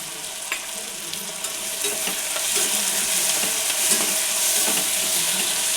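Cloves, peppercorns and a piece of cinnamon fry with chopped tomatoes in a pan for dal rice, giving a steady, close hiss of sizzling oil with light stirring scrapes throughout, and no talking.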